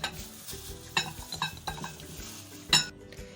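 One kilogram of mixed bone-in chicken pieces is dropped into a bowl, producing several soft thuds and wet clinks in an irregular rhythm, close and moderately loud, with no one speaking.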